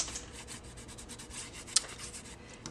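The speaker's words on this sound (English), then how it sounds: "then I'm just going to lightly rub it over the raised areas." Finish is rubbed lightly by hand over a raised decorative pattern, giving a steady, soft, close scratchy rubbing in quick repeated strokes, with one brief sharper scrape near the end and no talking.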